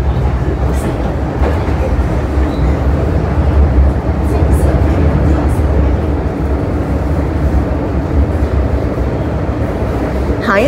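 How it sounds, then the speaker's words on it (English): Hong Kong MTR train pulling into a station, a loud continuous rumble of wheels and motors with faint squeals and hiss as it slows near the platform. "and the train arrives."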